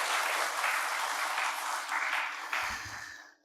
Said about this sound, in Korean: 박수 다시 한번 보내주시죠.